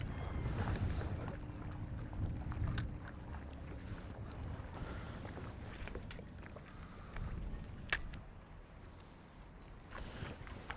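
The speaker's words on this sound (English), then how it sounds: "Now the wind comes up." Wind gusts across a shallow water flat during a fishing trip, a faint steady rush and buffeting on the microphone with light water lapping and occasional knocks from the boat.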